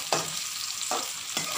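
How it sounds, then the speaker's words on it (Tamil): Onions and curry leaves sauté in oil for a chicken curry, a steady close sizzle broken by three brisk stirring scrapes in the pan. "வெங்காயம் கலர் மாறுற வரைக்கும் நம்ம கொஞ்சம் வதக்கணும்."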